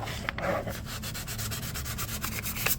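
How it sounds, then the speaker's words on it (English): Sandpaper rubs back and forth over the painted finish of a Predator biomask in steady, rhythmic strokes, close and fairly loud with no talking. "I don't need to sand it right back down."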